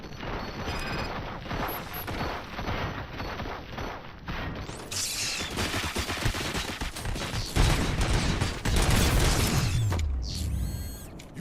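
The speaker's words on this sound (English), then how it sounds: "Fire at will." Dense gunfire bursts from the RoboCop video game, with mechanical clanks and rattling volleys that swell loudly after the midpoint, then a sharp bright burst near the end, with no talk.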